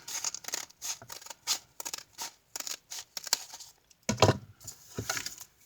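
Scissors snip through paper while a golden book journal is being made, a quick run of close, crisp cuts in an irregular rhythm with a heavier rustle and crunch of paper near the end, no voices.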